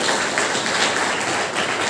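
Participants at a state yoga championship prize distribution ceremony in Chandigarh clap for themselves, a dense, steady wash of many hands held at an even level for a couple of seconds with no voices over it.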